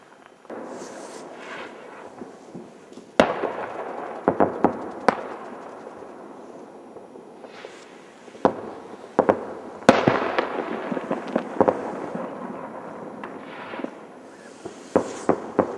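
New Year's Eve fireworks at midnight in Balestrand, Norway, boom and crackle, with sharp bangs at irregular intervals over a continuous crackling rumble, some loud and close, others more distant.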